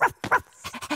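A brown dog with a red collar in a kids' cartoon lets out a quick run of short, close barks and yips, several in one second, with no talk over them.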